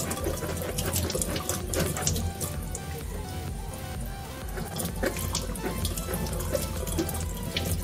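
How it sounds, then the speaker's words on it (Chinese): Running tap water splashes over orange peel being washed under the faucet, a continuous close gush with small shifting splatters as the peel is turned. "然后橘子皮要把它洗干净。"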